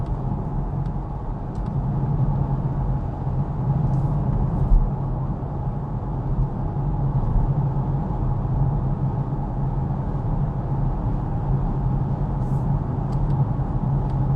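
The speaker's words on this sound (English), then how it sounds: "But on the rough Norwegian asphalt, you can hear the noise." Road noise inside a Polestar 2 Performance towing a trailer over rough Norwegian asphalt, a steady low rumble and tyre roar that holds at an even loudness throughout, with no talk.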